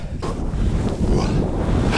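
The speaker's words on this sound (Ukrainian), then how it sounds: "Є трошки вітер, але терпимо." Strong wind buffets the microphone on a frosty Carpathian ski-touring ascent, a loud, continuous low rumble with gusty surges throughout.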